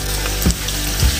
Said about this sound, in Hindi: इसको जो तड़का लगेगा उसके लिए मैंने घी डाला है और इसमें मैं प्याज ऐड करने लगा